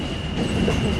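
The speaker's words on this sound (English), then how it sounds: "Well, it's a switching train" A Canadian Pacific switching train rolls past close by, a steady rumbling wash of wheels and cars with a faint high tonal whine running through it, no voices.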